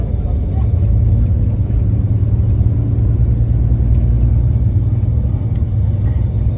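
A bus engine rumbles steadily throughout the ride, a loud continuous low drone with constant road noise, while people talk over it.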